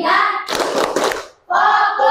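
Schoolchildren in a classroom perform the 'tepuk fokus' routine: a short cluster of rhythmic group hand claps, loud and close, sandwiched between stretches of voices chanting together.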